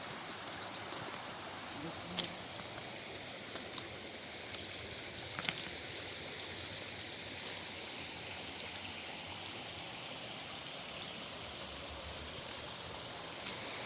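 Steady rushing of Clear Creek flowing over rocks in the Gifford Pinchot National Forest, a continuous broadband wash with a few faint clicks, no talking.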